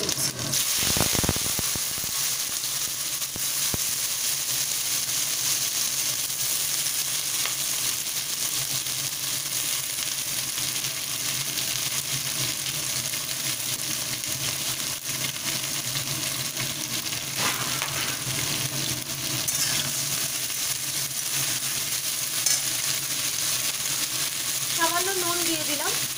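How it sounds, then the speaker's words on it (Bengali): Chopped flat beans and potatoes frying in a pan with black cumin and green chillies, a loud continuous hiss and sizzle that holds steady throughout, with faint stirring and occasional clinks. "এবার আমি কেটে রাখা শিম এবং আলুগুলোকে দিয়ে দিচ্ছি।"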